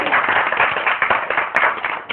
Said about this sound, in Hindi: तालियां तो बजाइए यार